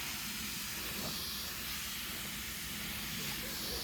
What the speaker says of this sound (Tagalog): So next spray natin guys ng booster grower, may kasama ng liquid fertilizer.